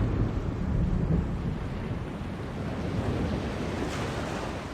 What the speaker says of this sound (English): We must avoid the storm lest it comes on us like Jaw's callous heel and crushes us.